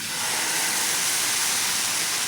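Uttapam batter made from rava and poha sizzling on a hot tawa, a steady bright hiss close up, continuous and unbroken with no talking.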